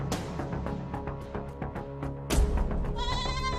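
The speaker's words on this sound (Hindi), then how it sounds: "बकरी को शोर आ रहा है" Goat bleating amid loud, dense background sound, the animal's cries partly buried in the constant noise before a brighter tonal passage near the end.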